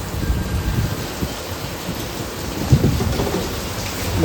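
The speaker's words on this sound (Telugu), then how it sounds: "వర్షం అయితే బీభత్సంగా పడుతుంది" Heavy rain pours down steadily while low thunder rumbles through, with a brief louder crack near the middle; no one speaks.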